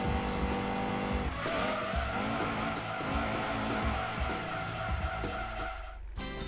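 Car braking hard with tires skidding and squealing in Gran Turismo 2, the engine whine dropping under a continuous screech before cutting off abruptly at the end.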